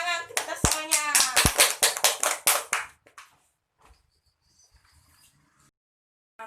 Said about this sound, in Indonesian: Tepuk tangan kita semuanya.